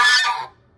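A single short, nasal goose honk sounds close and clear, then fades into quiet.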